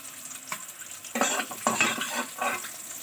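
Soybean chunks frying in oil in a pan, a steady sizzle broken by several louder bursts of stirring and scraping, close and fairly loud, with no voices.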